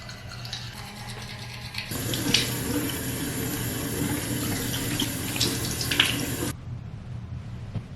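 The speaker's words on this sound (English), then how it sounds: "Definitely like cold water to the face in the morning" A bathroom tap gushes cold water into a sink for several seconds as a face is washed, the steady rush starting and stopping abruptly, with faint splashing.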